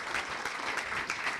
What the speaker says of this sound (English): round of applause for CraftHaus